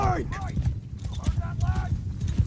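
Cavalry horses gallop in the video game Mount & Blade 2 Bannerlord, a dense, loud drumming of hooves with whinnies, running throughout under someone talking.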